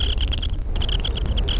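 Crickets chirp at night in the farming game Harvest Moon, a steady rhythmic series of bright pulsing trills repeating throughout with no other sounds.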